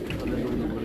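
Domestic flying pigeons coo in a low, steady, murmuring drone from a rooftop loft, with faint voices in the background.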